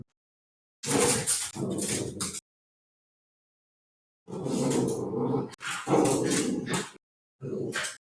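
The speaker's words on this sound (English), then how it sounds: "sorry if you can hear the dog" A dog barks and growls in bursts, loud and close, separated by stretches of silence.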